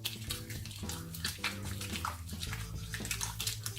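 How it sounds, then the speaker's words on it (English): Running water pours steadily from a tap over hands being washed at a sink, a continuous close splashing rush with small sloshing variations and no talk. "Then we wash our hands with water."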